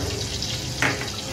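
Spice masala for a Bengali prawn curry sizzling and frying in oil in a pan over low-to-medium heat, a steady close hiss with a brief stir or scrape partway through.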